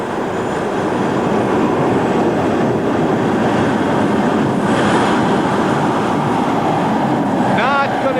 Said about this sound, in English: She's going to stop close to the 200-foot mark as those twin T55 Lycoming turbine engines not quite able to get it done